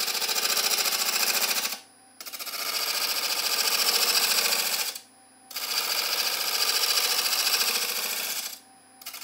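A wood gouge cuts across a spinning cheese serving board on a lathe, taking light shavings: a steady, fairly loud scraping whir in three long passes separated by brief pauses, with no talking.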